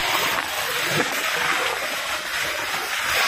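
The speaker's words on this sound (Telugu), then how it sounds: "ఎట్లా వాటర్ ఫ్లో ఉంది చూడండి, చాలా ఉధృతుంది." The Musi river in flood rushes under a bridge, a loud, continuous roaring wash of strongly flowing water that fills the scene, with no talking.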